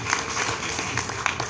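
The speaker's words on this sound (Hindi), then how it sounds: "आपकी तालियां ही बता रही हैं ये बात" Applause from a crowd at a large public rally in Ashok Nagar, a brief, busy wash of many hands clapping, steady and moderately loud throughout.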